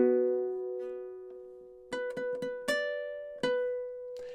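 Ukulele plays a measure of a riff: a sustained opening note, then a quick run of plucked notes and sliding shapes, ending on a held ringing note, close and solo.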